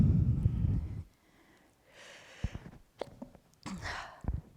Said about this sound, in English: Zoom didn't block out that sneeze.